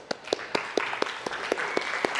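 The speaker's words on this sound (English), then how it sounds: "That's to be applauded, actually." A church congregation applauds, about ten evenly spaced claps standing out over a soft wash of background clapping, fairly quiet and alone.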